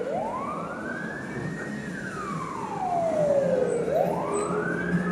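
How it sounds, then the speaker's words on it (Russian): Ambulance siren on a street in Yakutsk, a wailing tone sweeping up and down over steady traffic rumble, growing louder as the vehicle passes nearby. "Еще одна скорая едет."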